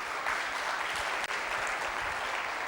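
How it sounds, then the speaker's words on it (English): A conference audience applauds its presenters with sustained, even clapping that fills the room, heard alone from a moderate distance. "Can we have a combined round of applause for all our presenters?"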